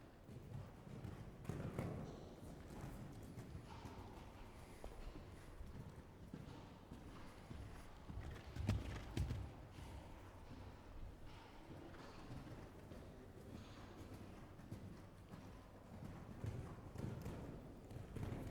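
A showjumping horse canters around an arena during a training clinic, its hoofbeats faint, dull and rhythmic on the soft footing beneath a steady background hum.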